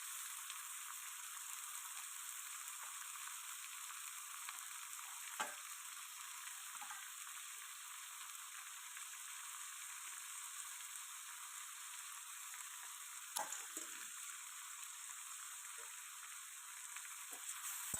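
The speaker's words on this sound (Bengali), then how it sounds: "তো চিকেনটা আগে একটু তেলে ভেজে নেবো আমি" Chicken fries in oil with onion in a pan, giving a soft, even hiss and sizzle throughout, with a couple of faint clinks or stirs midway and later.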